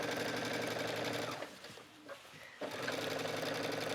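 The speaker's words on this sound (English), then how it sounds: "So just go ahead and stitch." Sewing machine stitching a skirt waistband, a steady close whirring run that slows and pauses briefly in the middle before resuming at full speed.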